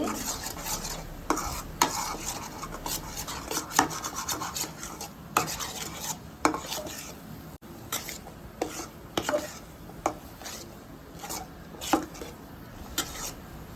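Coconut halwa being stirred in a pan, a steady series of scraping, rasping strokes with a faint sizzle, close and fairly loud, with no voices.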